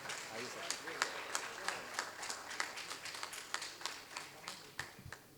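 An audience welcoming a poet at a kavi sammelan and mushaira with sparse, uneven hand clapping that comes in scattered bursts, fairly faint, while voices talk underneath.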